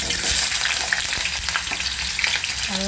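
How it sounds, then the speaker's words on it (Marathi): Potatoes fry in hot oil with a dense, steady, close sizzle that continues unbroken and without any voices. "या तेलामध्येच आपल्याला हे बटाटे आहेत ते फ्राय करून घ्यायचे"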